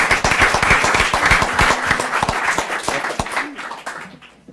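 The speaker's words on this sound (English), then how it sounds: "I want to just ask for some applause and acknowledgement for Lu Jin." A crowd at a school committee meeting applauds with dense, steady clapping that fades away toward the end.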